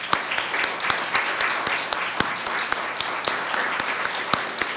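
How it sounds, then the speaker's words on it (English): An audience at a lower school oratorical program claps for the participants, a sustained round of applause with a few sharper individual claps standing out, heard alone without speech. "Let's give all of our participants a round of applause."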